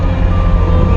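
A Bobcat T650 skid steer sounds a steady reversing beep tone over its loud, close diesel engine rumble during one brief moment.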